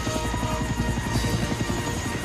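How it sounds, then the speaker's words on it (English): An animated helicopter touches down in snow, its rotor giving a loud, steady, pulsing chop that continues evenly at close range. "With landing lights shining brightly, Harold the helicopter touched down gently in the snow."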